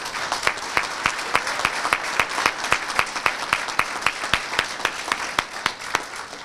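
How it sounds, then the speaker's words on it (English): An audience at a sheriff's office academy graduation applauds the graduates, with sharp individual claps standing out in an even rhythm over a steady wash of clapping, close and loud, with no talking. "So let's give them a round of applause for that."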